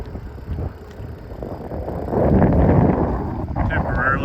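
Steady wind roars across the microphone while riding a bicycle south along a highway into a headwind, a dense low rumble that swells louder about halfway through.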